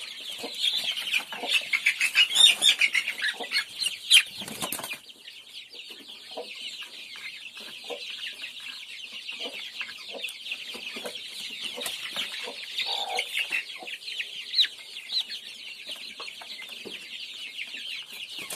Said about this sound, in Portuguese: São os franguinhos bem saudáveis